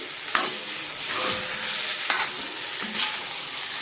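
Potatoes and tomato fry in a pan with a continuous close sizzle, broken by a few sharp spatula scrapes and stirs at regular intervals; no one speaks.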